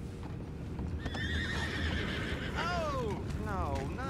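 Horses in Red Dead Redemption 2 whinny twice in clear, rising-and-falling calls over a steady bed of hoof clip-clop and camp ambience, fairly close and prominent.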